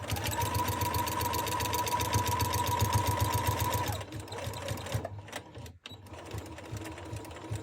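A sewing machine stitches fabric for a multicolored coat, a fast, steady mechanical whir that runs loudly for about four seconds, then breaks into uneven, hesitant bursts before falling quiet.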